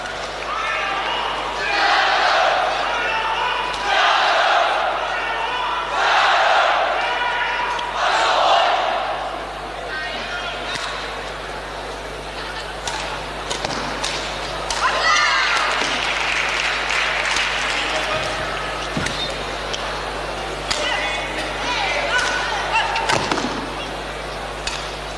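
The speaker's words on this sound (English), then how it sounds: "The crowd's absolutely enjoying it" Crowd at a 1990 Asian Games women's singles badminton semifinal, bursts of loud applause and cheering rising and falling in waves across a large hall, with a commentator's voice talking over parts of it.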